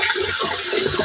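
Tap water gushes steadily and close by as chopped spinach and vegetables are rinsed in a kitchen, a brief continuous splashing rush.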